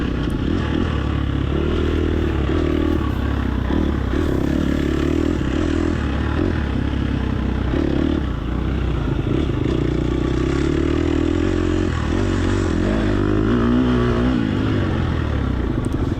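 Dirt bike engine revving hard in a woodland racing video game, a loud continuous buzzing drone that rises and falls with gear changes and throttle, with rattling clatter from bumpy terrain throughout.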